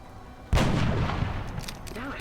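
Gunfire from a soldier's weapon in the turn-based strategy game XCOM: Enemy Unknown, a sudden loud burst followed by a sustained noisy rumble and decaying crackle, alone without talk.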